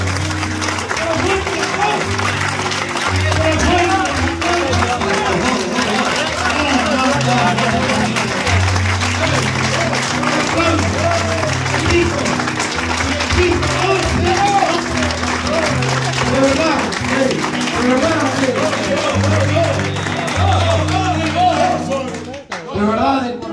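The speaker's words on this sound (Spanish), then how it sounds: "¡Que vaya aplaudiendo otra vez!" Sustained applause from a crowd at a friends' dinner, dense and continuous clapping with shouting voices over it, ending abruptly near the close.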